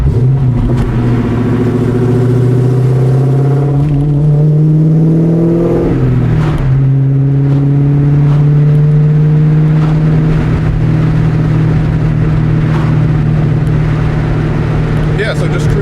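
A 1999-2004 New Edge Mustang GT V8 cruises along a road, its steady low engine drone loud and continuous from inside the cabin, with a brief shift in pitch early on before settling into an even hum.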